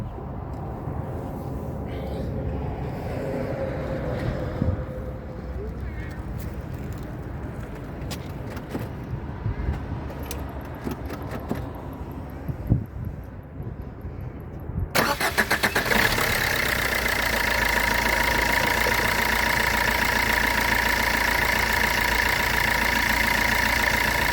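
A Fiat Linea 1.3 Multijet diesel car, fresh from a power steering fluid change, cranks and starts about midway, then settles into a steady, loud idle that runs to the end, with quieter shuffling and workshop handling noise before it.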